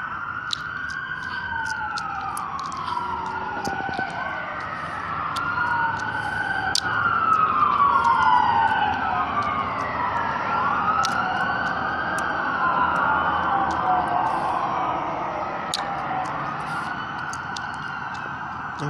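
An emergency medic truck siren wails in long, repeated rising and falling sweeps. It stays loud and steady for the whole stretch, with no talking.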